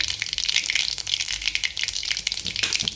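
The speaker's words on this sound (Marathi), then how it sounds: "छानपैकी तेल तापलेलं आहे मोहरी घालूया मोहरी छानपैकी तर वाजलेली पाहिजे" Mustard seeds crackle and pop in hot oil for a spicy Maharashtrian pithla, a dense and continuous spatter of sharp snaps that stays close and fairly loud throughout, with no one talking.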